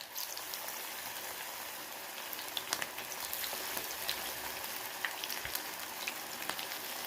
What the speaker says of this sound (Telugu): ఒక్కొక్కటి తీసుకొని వేడి నూనెలో వేసుకోవాలి